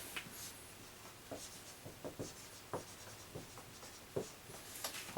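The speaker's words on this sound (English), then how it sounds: "I'll write it down just so you guys can visualize what they're doing" Pen writing on paper, with scratchy strokes and brief taps in an irregular rhythm, close and fairly quiet, no voices.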